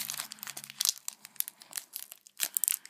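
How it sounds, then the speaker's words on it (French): A small trading card booster pack from the Ciel Rugissant series, found in a magazine, is torn open close to the microphone in a series of sharp crinkling rips and crackles of foil wrapper, uneven in rhythm, with no talk. "on va s'ouvrir un des petits échantillons pour découvrir 3 petites cartes de la série"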